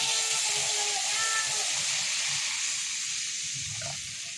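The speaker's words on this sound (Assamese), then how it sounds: "এতিয়া ইয়াৰ ওপৰতে মই দি দিম উতলাই থোৱা গৰম পানী।" Boiled hot water poured into a pan of fried greens while cooking a fish dish, giving a loud, steady hiss and sizzle that holds for several seconds and eases off slightly near the end.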